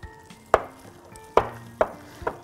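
Cinnamon mocha layer cake batter being stirred in a bowl, with four sharp knocks of the spoon against the bowl spaced about a second apart over a soft, steady mixing background.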